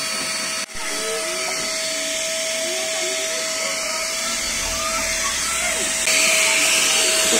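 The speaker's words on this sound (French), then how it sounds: "mon mari il a mis l'aspirateur et du coup ça fait du bruit" A household vacuum cleaner runs steadily and loudly the whole time, a constant whine with a sharp tone and broadband roar, briefly dipping near the start and growing slightly louder toward the end.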